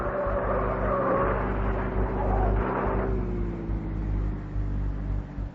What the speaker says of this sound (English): I run outside, grab a police car, and start chasing.